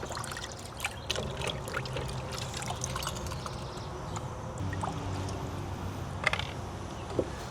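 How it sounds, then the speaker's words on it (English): Water pouring and trickling through a Park Tool Cyclone chain scrubber while an e-bike chain is rinsed, a steady wet splashing with a few small clanks, close and moderately loud, with no talking. "I'm gonna rinse it again."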